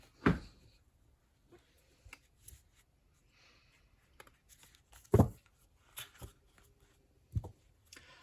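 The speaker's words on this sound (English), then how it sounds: "Let's see how it shuffles." Thin paper tarot cards being shuffled close by, quiet scattered riffles and soft flicks with a few sharper snaps separated by near silence.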